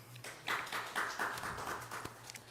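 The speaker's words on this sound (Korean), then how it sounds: "여러분 큰 박수로 맞이해 주시기 바랍니다." Applause from a debate audience welcomes an MC, a short burst of clapping lasting a couple of seconds at moderate loudness.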